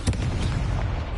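Incendio fire spell cast in the Hogwarts Legacy video game, a loud burst of fiery whooshing and booming that erupts at once and roars on steadily for about a second.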